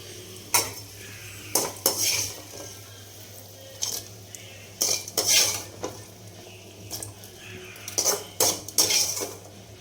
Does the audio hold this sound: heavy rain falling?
no